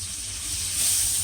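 Seafood frying in butter in a pan gives a steady, soft sizzling hiss that swells slightly toward the end of the short stretch, with no talking over it.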